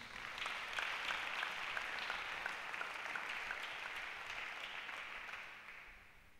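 Church congregation applauding the Lord during a sermon, dense sustained clapping from a large crowd that slowly fades out at the end.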